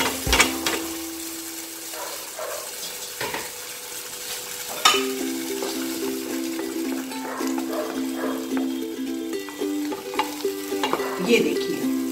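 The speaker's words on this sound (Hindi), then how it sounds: "इसको हमने करा है सॉटे थोड़ा सा सिर्फ ऑयल के अंदर" Spinach with tomato, garlic and salt sautés in a little oil, giving a soft steady sizzle with stirring scrapes and occasional clinks of a spoon against the pan, close and continuous throughout.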